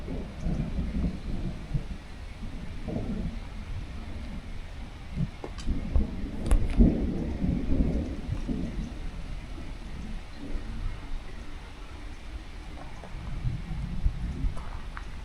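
Low thunder rumbles through a hail storm on Tioga Peak, a continuous deep roll that swells into a bigger peak around the middle before settling back to a steady distant grumble.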